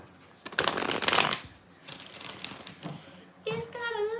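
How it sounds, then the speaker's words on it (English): Tarot cards are shuffled by hand in bursts of crisp riffling and crinkling near the listener, and a voice comes in over the last second. "6 shuffles"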